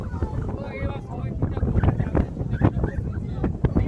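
Wind buffets the microphone aboard a boat crossing the Panchamukhi river in the Sundarbans, a loud, gusty low rumble throughout, with faint voices briefly audible early on.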